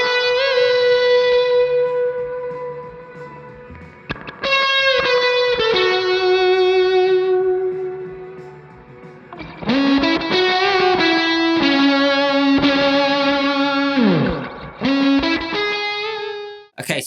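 A distorted electric guitar plays sustained lead notes and bends with a mild fuzz tone from a Beetronics Octahive pedal, trailed by echo and reverb, loud and continuous with brief gaps.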